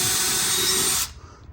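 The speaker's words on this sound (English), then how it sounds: "I'm gonna go ahead and just drill a little hole here" A power drill bores a small hole while mounting a smart sprinkler controller, running loud and steady at close range for about a second before abruptly stopping, followed by faint handling noise.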